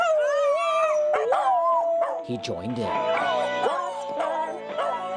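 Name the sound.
dog howling along to music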